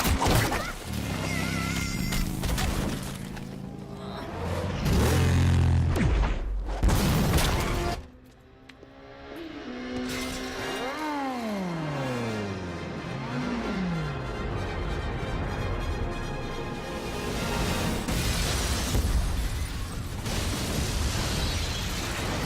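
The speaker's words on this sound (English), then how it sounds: "Catwoman's ending move where she jumps off the motorcycle and it explodes" Catwoman's super move in the Injustice 2 fighting game, where the motorcycle she jumps off explodes: loud layered booms and crashes, then a sudden drop and swooping, falling synthetic tones amid a busy game soundtrack.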